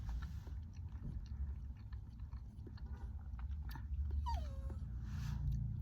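A dog makes close, quiet chewing and biting noises with small shuffles over a low indoor rumble, and a brief whine near the end.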